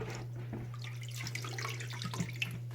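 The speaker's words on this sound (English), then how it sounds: "Keep washing them inside this tank water." Filter media from a Fluval 306 canister filter is swished and rinsed in a container of aquarium tank water, a soft, close, continuous sloshing and trickling with a low steady hum underneath.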